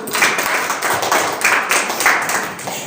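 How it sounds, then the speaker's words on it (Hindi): Classroom students clap together for a quiz team, a short, loud burst of fairly rhythmic group clapping with noticeable pulses, lasting a few seconds. "18 अंक के बाद शाबाश तालियां बजाइए।"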